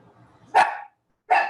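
Indoors, a dog lets out two sharp, close barks about three quarters of a second apart, with a faint murmur before them.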